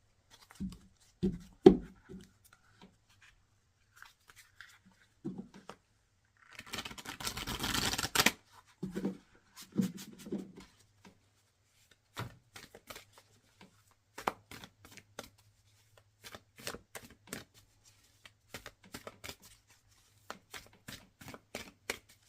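Tarot cards being shuffled in quiet surroundings: scattered soft riffles and taps, with one longer burst of rapid flutter partway through, then intermittent crisp clicks and shuffles.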